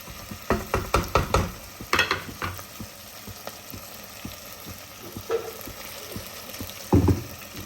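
Water is poured into a hot cooking pan with potatoes for an egg and potato dish, setting off bursts of sizzling and clattering. Quieter bubbling continues between the bursts, and a final loud surge comes near the end, with no voices.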